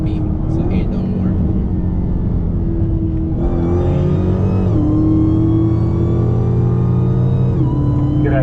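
A tuned Dodge SRT Hellcat pulls hard on the road, its engine droning loudly and rising through the revs with shifts between pulls. Voices talk over the engine inside the car.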